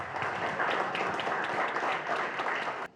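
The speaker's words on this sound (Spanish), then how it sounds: "Fuerte aplauso para ellos" Audience applause at a legal forum on security and justice, steady, dense clapping throughout at close range that cuts off abruptly at the end.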